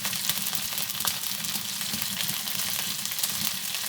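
Chopped onions, green chilies, salt and ginger-garlic paste fry in soybean oil on a village clay stove, giving a dense, steady sizzle with an occasional stirring scrape close by. No one speaks.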